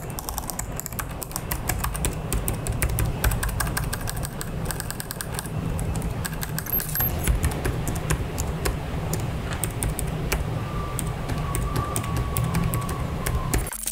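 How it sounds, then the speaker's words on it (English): Typing on the keyboard of an Acer Predator Helios 16 gaming laptop with textured linear switches. Rapid, steady clicking goes on throughout, close and clear, with no voices. "The linears are textured and they feel great for people who need a little grip for their WASD fingers."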